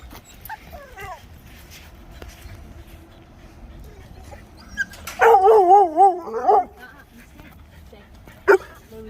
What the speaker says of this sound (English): Both dogs.